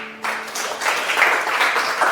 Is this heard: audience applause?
yes